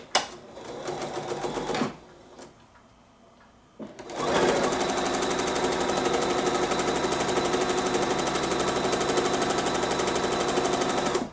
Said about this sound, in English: we'll use our straight stitch and attach close to the satin stitched edge